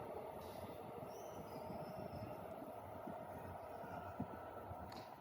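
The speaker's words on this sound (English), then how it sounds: "Oh, and the other direction, train's coming as well." A distant train rumbles along the tracks with a steady low roar and a faint high squeal, growing without any voices.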